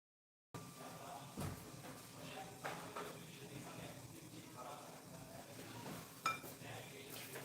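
Faint scraping and occasional clinks of a spoon stirring sabudana pudding in a pot after sugar goes in, quiet and irregular, with soft kitchen clatter and a sharper knock near the end.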